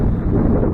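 Strong wind buffets the microphone beside a flooded river, a loud, dense, low roar with steady rumbling gusts throughout and nothing else standing out.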